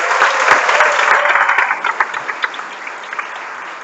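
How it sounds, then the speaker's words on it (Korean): Audience applause after a business lecture on success with Nu Skin, dense and loud at first, then thinning into scattered individual claps as it fades. "이상 박수 드립니다"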